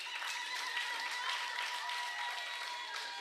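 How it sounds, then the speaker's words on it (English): An audience at a Nigerian independence anniversary lecture applauds in a steady, dense wash of clapping that holds at an even level for the whole stretch. "I'm not satisfied with that round of applause."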